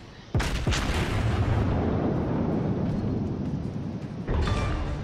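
Battleship main guns fire in World of Warships aboard the USS South: a quick pair of heavy booms, a long rolling rumble, then another blast near the end.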